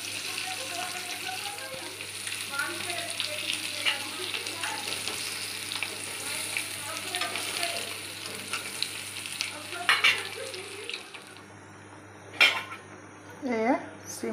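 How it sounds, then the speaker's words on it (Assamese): Hard-boiled eggs fry in a pan, browning as they are stirred, with scraping and clinking of a utensil against the pan over a steady sizzle, plus a few sharper clatters near the end. "ডিমবোৰ এগবোৰ লাল কৰি ভাজি আছোঁ"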